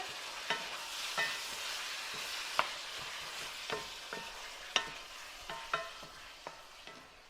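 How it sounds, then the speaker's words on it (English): Two pounds of ground beef frying over medium-high heat, a faint steady sizzle broken by regular scraping and tapping stirs of a utensil in the pan, no talk. "over here, we have 2 pounds of ground beef. Cooking over a medium-high temperature."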